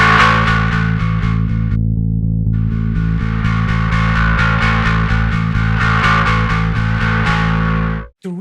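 Heavily distorted synth tone processed through the Anagram Entropia distortion plugin, a loud sustained buzzing drone with rhythmic pulsing chords, a brief dropout early on and an abrupt cut near the end.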